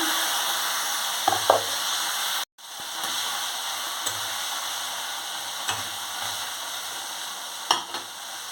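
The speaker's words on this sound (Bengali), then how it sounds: "তেল গরম হয়ে গেছে ট্যাংরা মাছগুলো ছেড়ে দিচ্ছি" Tangra fish, rubbed with salt and turmeric, sizzling in hot oil: a steady bright hiss with occasional spatter pops and light knocks, briefly cut by a short gap early on.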